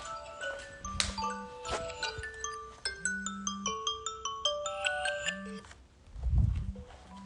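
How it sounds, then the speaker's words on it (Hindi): A phone ringing inside a home, a melodic electronic ringtone with bright repeating tones that carries on for several seconds, close by and fairly loud, with a brief low thump near the end. "एक फ़ोन रखा था घर पे तो वो बज रहा था"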